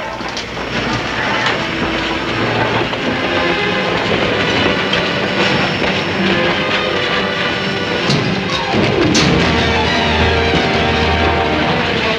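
A train runs on rails in a colorized Wild West film, its loud, continuous rumble and rhythmic clatter of wheels filling the scene from close by.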